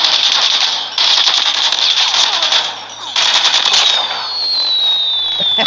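Rapid bursts of gunfire from an LK24 in Call of Duty: Mobile crackle like fireworks, dense and continuous with short pauses between volleys and a descending whistle near the end.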